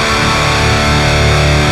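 Dense, loud high-gain distorted electric guitar tone from a VOX Cambridge50 amp on a rectifier-style setting, a thick saturated sustained roar with no gaps, close and alone.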